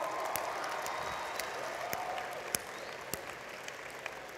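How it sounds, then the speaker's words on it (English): A faint, thin patter of audience hand clapping for school bus drivers at a talk, fairly distant, with a few sharper individual claps standing out near the end. "Give my hand clap if you will."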